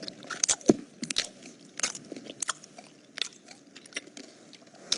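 A person chews and crunches a mouthful of food close to the microphone, with irregular crisp bites and wet chewing spread across several seconds and no talking.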